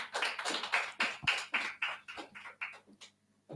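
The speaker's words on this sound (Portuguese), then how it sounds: "aplaudimos o Senhor" A church congregation claps their hands in a steady, even rhythm, roughly four claps a second, close and clear, then the clapping thins out and fades.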